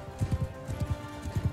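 Hooves of a horse galloping in the Mount & Blade II: Bannerlord video game, a quick rhythmic run of paired thudding beats, fairly close and steady, with no talk over it.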